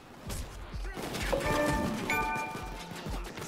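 Gunfire in PayDay 2 cracks in rapid bursts of sharp shots, moderately loud with clashing impacts and game noise around them.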